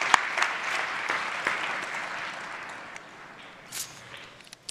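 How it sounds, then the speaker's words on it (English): Steady applause from a startup festival audience in San Francisco, a broad wash of clapping that holds at an even level for several seconds, with a few brighter cheers near the end. "Big round of applause."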